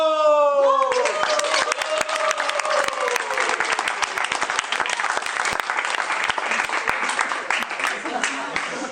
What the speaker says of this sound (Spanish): Un gran aplauso para María del Sol